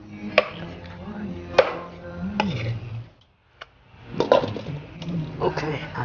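Cleaver chopping through chicken meat for a lychee chicken soup, several sharp separate thwacks with pauses, close and loud, one brief silent gap midway.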